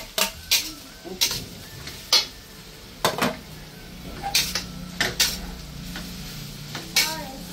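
Bagasay clams sautéed in a pan clatter and scrape under stirring, with scattered sharp clicks of shells and utensils against the pan over a soft sizzle, fairly close.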